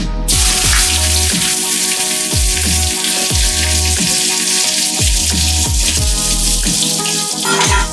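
Dried red chillies and spices crackle in hot oil for a village-style Bengali chicken curry, a continuous close sizzle heard beneath a loud, rhythmic, repeating musical pattern.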